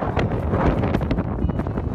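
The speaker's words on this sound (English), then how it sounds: "It turned out to be extremely cold and windy, gusts coming in at over 60 miles per hour" Strong gusting wind at a campsite in Hungry Valley, with gusts over 60 miles per hour buffeting the microphone in loud, uneven rushes and bursts throughout, with no voices.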